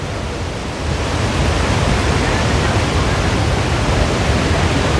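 A waterfall at Athirappilly in Kerala roars as a loud, steady broadband rush of falling water that stays constant and close throughout.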